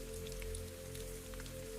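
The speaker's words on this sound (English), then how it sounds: "Outside, the rain deepens slightly. You hear droplets flowing through gutters and rain chains." Steady rain patters outside a greenhouse cottage, water trickling through gutters and rain chains in a soft, continuous hiss, faint and even, with a low hum beneath and no voices.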